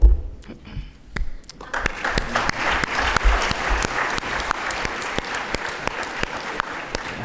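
Audience applause at the Regent Debate on Canada and a Trump presidency, starting with a few scattered claps that swell into sustained, loud clapping from a large room crowd.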